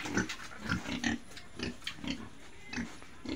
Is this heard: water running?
no